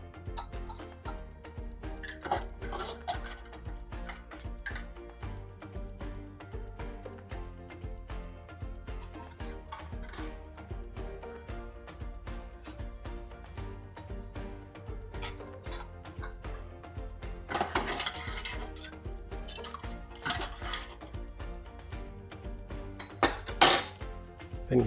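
Metal canning lids being set onto glass jars of homemade pepper sauce, with repeated light clinks and taps spread through the stretch and a few sharper clatters near the end, against steady low background hum.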